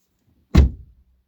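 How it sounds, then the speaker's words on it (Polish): A Volkswagen Passat B7 car door opens with a single short thunk, close and clear, followed by a brief fading rattle and then quiet. "Otwieram drzwi."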